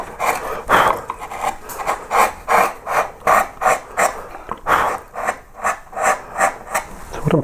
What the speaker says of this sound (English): this is whatever chisel I'm using, I'm going straight down and not at an angle